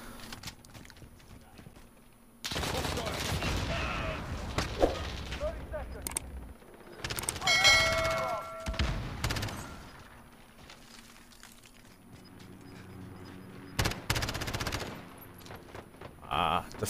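Rapid bursts of AK rifle fire in Call of Duty Modern Warfare, several loud clustered volleys separated by quieter stretches of game sound.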